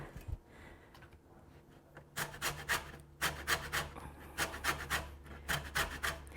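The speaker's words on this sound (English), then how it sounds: "It's good to zest the lemon right before you're going to use it" A lemon zested on a grater, a series of close, rhythmic rasping scrapes in quick strokes after a quieter start, with no talk over it.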